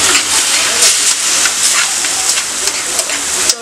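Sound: fish frying in oil

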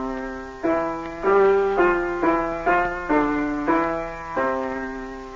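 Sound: piano playing after one week of a course

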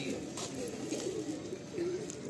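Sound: pigeon cooing

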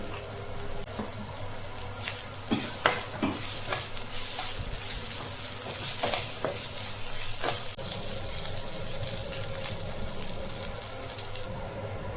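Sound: ginger garlic paste and turmeric sizzling while stir-frying

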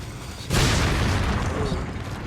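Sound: explosion, enemy blowing himself up, Resident Evil 4 video game

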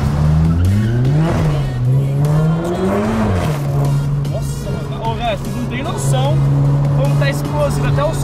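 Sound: Audi TT engine accelerating on aviation fuel

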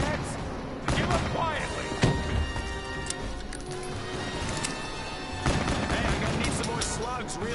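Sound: gunfire in a video game

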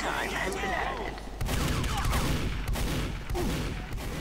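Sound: sniper rifle gunfire in a video game

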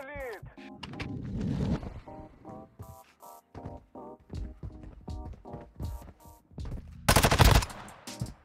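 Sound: SMG gunfire in the video game Warzone Mobile

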